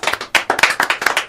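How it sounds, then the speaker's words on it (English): A few people clap for an event organizer at a small gathering: sparse, close, uneven hand claps in a quick irregular rhythm, each clap sharp and distinct rather than blended into a crowd. "Let's give David a round of applause."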